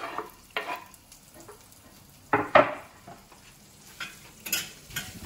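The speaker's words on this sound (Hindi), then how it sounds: "हल्का सा इसको सॉटी करते हैं" Ginger and green chilli sauté in a pan on low heat for dum aloo, with a spoon scraping in several irregular strokes, some sharp and loud, over a faint sizzle and no talk.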